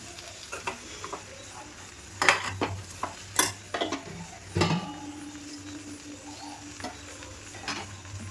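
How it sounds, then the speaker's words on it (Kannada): Stirring prawn, dry fish and egg palya in a pan, a spatula scraping and clinking against the metal in irregular strokes over a low sizzle, with a few sharper knocks midway. "ಚೆನ್ನಾಗಿ ಮಿಕ್ಸ್ ಕೊಡಬೇಕು ಒಂದೆರಡು ನಿಮಿಷ ಮಿಕ್ಸ್ ಮಾಡಿದ್ರೆ ಸಾಕು"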